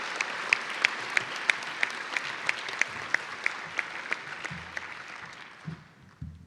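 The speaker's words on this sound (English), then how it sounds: "Let's give these men and women our loudest round of applause." Audience applause for a panel of program committee members at an ocean leadership event, with sharp individual claps standing out over a softer crowd wash that fades out toward the end amid some low rustling.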